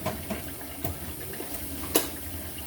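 A kitchen tap runs steadily into a sink, a constant close hiss of water with a few small splashes and clatters from dishes on top.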